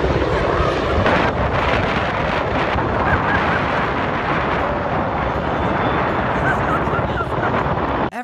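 A helicopter flying close by gives a loud, steady roar of rotor and engine noise that fills the whole stretch, with no pauses.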